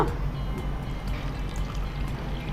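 Water poured into ragi flour for making ragi neer dosa in a kitchen, a steady close splashing pour that runs continuously at moderate level, with no talk.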